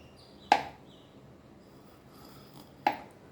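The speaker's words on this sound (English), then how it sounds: "Now we will give a fine slit" Two sharp, isolated knife strikes slicing fine slits into a whole pomfret fish on a cutting board, spaced a couple of seconds apart in a quiet kitchen, with no voices.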